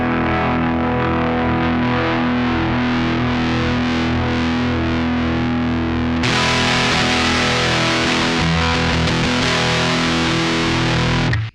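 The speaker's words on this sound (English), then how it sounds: "The more you raise it, the more fizz you're going to get." Sustained distorted guitar runs through a Cataclysm pedal's drive section while the strop control is raised, and midway the tone turns noticeably brighter and fizzier, playing loud and continuous with no voices.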